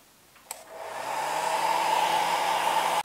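After a click, a hair dryer starts up and blows steadily over a beginner's watercolour painting, a close, continuous rushing hum rising to full strength and running alone.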